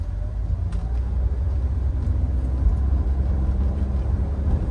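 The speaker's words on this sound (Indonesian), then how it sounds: "Nah nih kalau mau tahu tarikan CVT ya, kita coba gas" A 2014 Nissan Livina X-Gear with a CVT gearbox accelerates, giving a steady, muffled low engine drone heard from inside the cabin with no talk.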